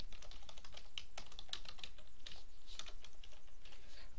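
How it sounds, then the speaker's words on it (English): Typing on a computer keyboard while entering display text for a Lego Mindstorms NXT program, a quick irregular run of close, crisp key clicks with no talking. "I'm gonna type Retro Rams 4001."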